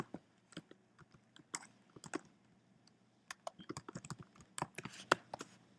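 Irregular bursts of soft keyboard clicks come from a computer keyboard as text is typed into a text box, close and fairly quiet, with no talking.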